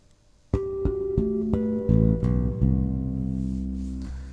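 Bass guitar notes plucked one after another, open strings mixed with bell-like harmonics, building into a sustained ringing chord; close and clear, no voices.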